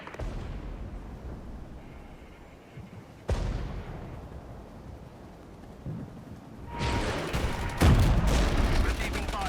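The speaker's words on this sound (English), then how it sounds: "Receiving fire." A Regiments battle carries sporadic gunfire against a low rumbling background. One sharp report stands out, and a denser, louder burst of shots and blasts comes near the end. No one speaks.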